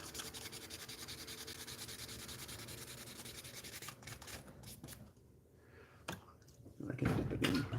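An 800-grit sanding pad is worked wet against a plastic part of a 1/60 NeoGrade Sazabi model kit, giving a steady close rubbing rasp that fades and breaks into a few scattered scrapes and a louder handling noise at the end.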